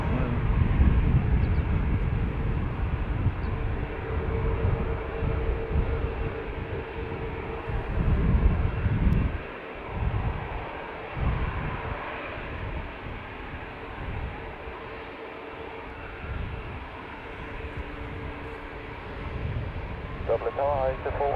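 An airplane arrives on the north runway at Dublin Airport with a steady, loud jet roar that fades and wavers, and voices talk beneath it.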